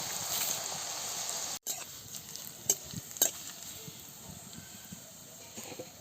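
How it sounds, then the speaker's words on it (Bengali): Potato chips fry in hot oil, giving a steady sizzling hiss throughout with a few louder crackles and pops and a brief dropout early on; no one speaks. "আলুর চিপস ভালো করে ভেজে নিয়েছি, এবার তুলে নিচ্ছি"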